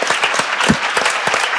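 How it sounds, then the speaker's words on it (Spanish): An audience at a book publisher's presentation applauds, many hands clapping together in a close, steady burst that holds at an even level. "un aplauso para Alejandro, hombre"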